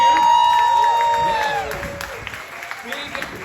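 An audience at a convention panel at the 2024 Superman Celebration bursts into loud applause and cheering up close, then the clapping thins out into scattered claps; a voice speaks over the start.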